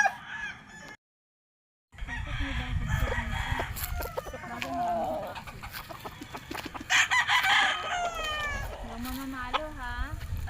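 Chickens cluck and a rooster crows nearby, mixed with people talking; the calls come in bursts over a busy outdoor background.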